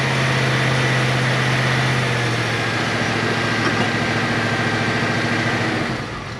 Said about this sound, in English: Is that really idling?